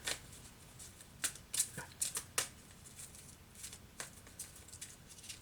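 Archangel oracle cards shuffled by hand, a string of quick papery riffles and flicks in short bursts, close and fairly quiet, with no one talking.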